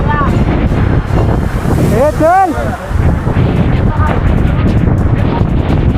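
Strong wind roars across Jivdhan fort in a loud, continuous buffeting rush, while a voice calls out briefly over it.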